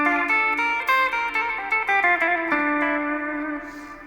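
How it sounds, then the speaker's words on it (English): Electric guitar notes through a Power Bell Ambi pedal, drenched in echo and reverb, repeating and smearing into a long ambient wash that slowly fades out. "If you listen to that echo and that reverb,"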